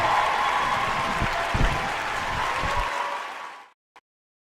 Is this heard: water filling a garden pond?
no